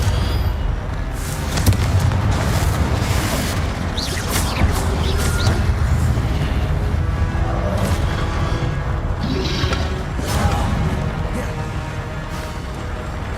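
Fiery Confringo spell blasts in the wizarding game Hogwarts Legacy, a dense, steady rumble of explosions and magical crackles with scattered bright bursts, busy combat noise from start to finish.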